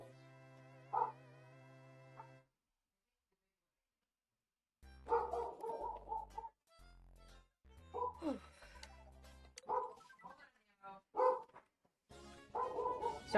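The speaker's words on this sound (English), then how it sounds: "excuse the dog barking" A dog barks in bursts of sharp, loud yips and woofs, with a brief bark early on followed by repeated clustered barking after a pause, heard over a quiet game-music background.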